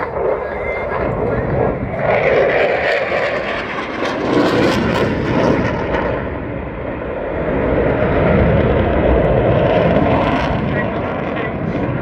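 A Eurofighter Typhoon roars through a flying display at RIAT 2022, its loud jet noise swelling and fading as it passes while an announcer talks over it.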